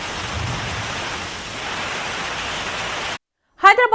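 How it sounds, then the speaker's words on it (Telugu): Heavy rain falling during a statewide downpour, a dense, even roar of hiss for about three seconds that cuts off abruptly, followed by a brief burst of a voice speaking. "రాష్ట్ర వ్యాప్తంగా వర్షాలు కురుస్తున్నాయి."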